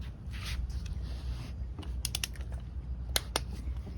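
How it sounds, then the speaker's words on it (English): A torque wrench tightens a bolt to 18 foot-pounds while a front bearing retainer seal is replaced on a Lexus IS300. Sharp mechanical clicks come in two quick clusters over a low garage hum. "So I already got the torque wrench set."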